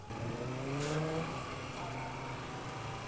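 A Moto Guzzi V7 III Stone motorcycle engine runs with a steady, low, throbbing burble, rising briefly in pitch as if blipped before settling again, with no talk over it.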